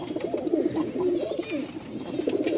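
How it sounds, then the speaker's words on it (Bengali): A male Rajshahi Giribaz pigeon coos repeatedly at close range, a steady series of low throaty rolling calls over faint background noise. "আমরা ককার ডাকটাকে দেখাই এ দেখেন ককা"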